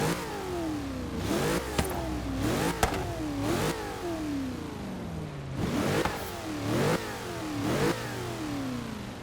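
Engine of a 2016 Chevrolet Camaro SS in the racing game Forza Horizon 3, revving hard through repeated gear shifts, each pull rising in pitch then dropping at the shift, loud and continuous.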